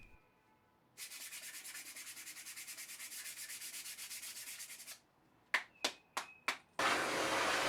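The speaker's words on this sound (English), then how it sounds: "Brush out any dust residue on the sandpaper and continue smoothing the surface." Sandpaper rubs by hand across a wooden workbench top in a steady run of quick, rhythmic strokes, close and crisp, followed by a few short separate swipes and a brief burst of brushing.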